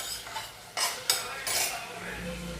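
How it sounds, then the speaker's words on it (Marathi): A metal spoon scrapes and clinks in a pan as crushed ginger and garlic are stirred and sautéed, a few close stirring strokes over a faint sizzle. "हे आलं लसूण चेचलेलं टाकते. मस्तपैकी असं ते खमंग असं भाजून घेऊया."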